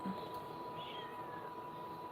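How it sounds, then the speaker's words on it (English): Kittens meow at a door, a faint rising mewing cry standing out briefly against steady low room noise and hum. "And the kittens are meowing at the door."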